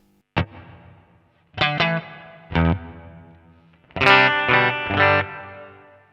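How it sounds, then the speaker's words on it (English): Several guitar chord stabs ring out through a NUX MG-300 Lexicon-style hall reverb, their tails lingering and blooming between strikes; loud and close, no voices. "A hall reverb,"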